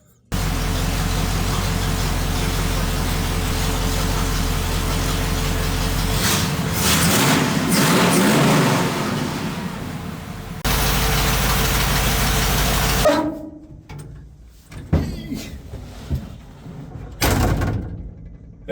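A rat rod's engine runs loud and close at idle, a dense steady roar that shifts partway through and then breaks into rougher, uneven bursts toward the end.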